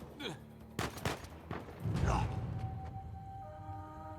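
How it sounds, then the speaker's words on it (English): Quiet video game gunfire, apparently in Uncharted: a few sharp shots and a short burst, followed by lingering tonal game sounds and faint mechanical noise. "I'd rather just not deal with getting shot at"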